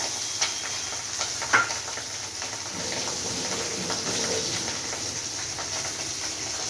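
Pabda fish frying in hot oil, with a continuous hiss and scattered sharp spattering pops, heard from a little distance.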